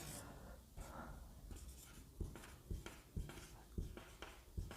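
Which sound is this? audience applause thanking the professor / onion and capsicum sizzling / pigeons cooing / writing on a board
writing on a board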